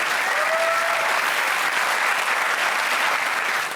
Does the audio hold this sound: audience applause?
yes